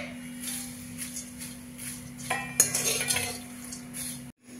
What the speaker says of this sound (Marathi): त्याच्यामध्येच आपण हे दगडफूल आहे हे भाजून घेऊया.